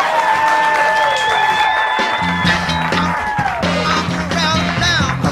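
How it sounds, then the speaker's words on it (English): An audience claps and cheers in a big round of applause after a magic trick, loud and sustained, with music playing underneath. "I would get a big round of applause"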